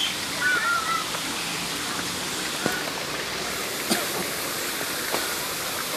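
A zoo waterfall gives a constant, even rush of falling water at moderate distance, with a few faint clicks and a hint of far-off voices.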